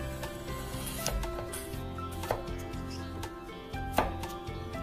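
A knife dices a halved, seeded small cucumber on a board for a salad; a few scattered, fairly soft chops sit under background music.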